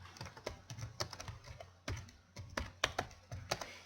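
Code is typed on a computer keyboard in quick irregular clusters of close, crisp key clicks with brief pauses between them, fairly quiet and with no voices.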